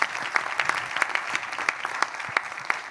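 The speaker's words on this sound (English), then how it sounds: "I just want to ask for a huge applause for the panelists" Audience applause for a panel discussion's panelists, steady hand clapping filling the whole stretch with sharp individual claps standing out, fairly close and alone without speech.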